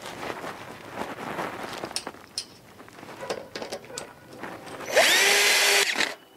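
A power drill drives a screw into a metal connector on a Gothic hoophouse frame, a short loud whir near the end following quieter handling clatter.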